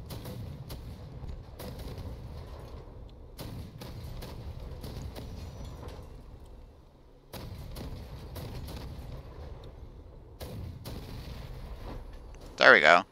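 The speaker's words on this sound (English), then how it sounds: "Now, time for the Gatling cannon." Rapid bursts of heavy automatic Gatling cannon fire in the video game Crossout, repeated in several loud volleys separated by brief pauses, with a short high electronic tone at the end.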